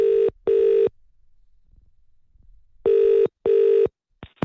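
Telephone ringback tone while placing a call, two pairs of loud steady rings separated by a silent gap, then the start of another ring at the end.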